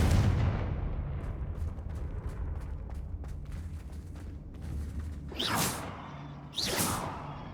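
A fire spell blasts spider webs in Hogwarts Legacy, heard as two loud whooshing bursts near the end, following a stretch of soft crackling game ambience and rumble.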